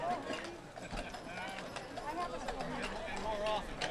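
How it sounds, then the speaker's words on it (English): Horses' hooves clip-clop along the street at the 2017 Germanic-American Day Parade in New Ulm, Minnesota, a rhythmic patter under steady commentary and crowd chatter. "Beautiful horses."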